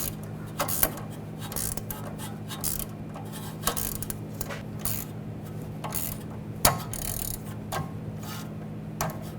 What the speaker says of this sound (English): A 15mm ratchet wrench, 5mm hex socket. Tighten down the nut.